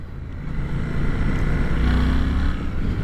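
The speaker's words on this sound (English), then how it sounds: "That engine sound, I see a little bit of a similarity with the MT-07 in that sound." A 2023 Suzuki GSX-8S motorcycle engine on a test ride, a steady close droning rumble that builds slightly in loudness midway, running alone without talk.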